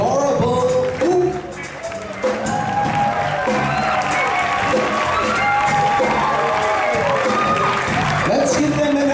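A concert crowd at a year-end show erupts in loud, close applause and cheering, with whoops and shouts layered over busy voices and clapping throughout.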